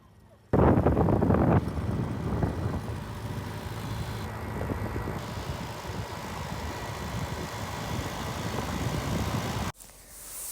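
Cold wind buffets the microphone during a bike ride around Jaffna. It makes a loud, steady roar with a low engine-like hum that starts abruptly and runs for about nine seconds before cutting off.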